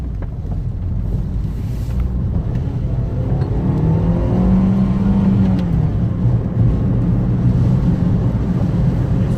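A Fiat 500 with a Dualogic automated gearbox accelerates on the road, steady engine drone and rising whine under heavy wind and road rumble from inside the cabin, no talk.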